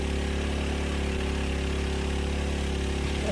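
A water pump engine runs steadily while a well is being dug, a continuous droning hum that holds an even level throughout, close by, with no talking.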